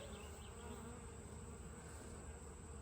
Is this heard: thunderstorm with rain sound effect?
no